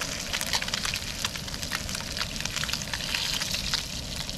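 Crappie fillet frying in a pan outdoors on a kayak, a continuous crackling sizzle with dense popping, fairly close and steady throughout.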